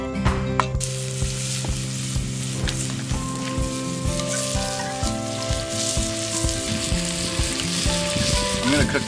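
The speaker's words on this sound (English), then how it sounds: "Put in the onion and the garlic and let them cook down a bit, along with some olive oil and salt to bring out the flavors." Onion and garlic frying in olive oil with salt in a pan over a campfire, a steady dense sizzle throughout with occasional stirring scrapes, close and fairly loud.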